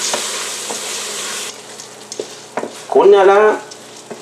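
Arborio rice being stirred in tomato juice in a pot opens with a loud hissing rush, then quieter scrapes and taps before a short spoken phrase near the end.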